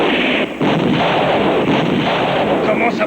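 Heavy gunfire in a war film battle scene, dense continuous bursts with a brief gap, loud and close, filling the whole stretch.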